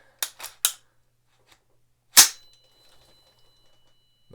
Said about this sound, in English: so let me rack the bolt